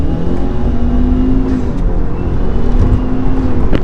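A Subaru WRX with all-wheel drive and a CVT gearbox, tuned to stage 2, accelerates steadily, its engine note holding a strong continuous drone from up close throughout.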